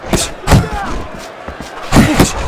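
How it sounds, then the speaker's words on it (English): Heavy punches landing in the boxing game Fight Night Champion, a few loud thuds spaced apart with a pair of quick hits near the end, under a commentator's voice and faint crowd noise. "A 3-punch combination scoring. Scores big with the hook to the head."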